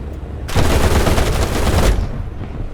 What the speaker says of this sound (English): The frontal armaments of the 190 turned the B-25 into a ball of fire with a short burst